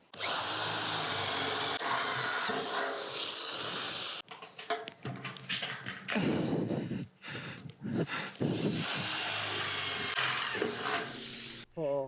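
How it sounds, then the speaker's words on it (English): A power drill whines loudly and continuously, then bites into metal in short, uneven bursts with grinding and scraping between pauses, close by. "So let's get on with the drilling."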